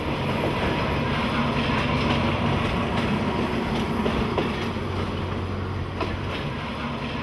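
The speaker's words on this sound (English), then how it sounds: "it was just a normal train that stopped at every single train station on the" A passenger train in Thailand, running to the airport, rumbles steadily along the rails, with a continuous low roar and faint rhythmic clatter, no voices.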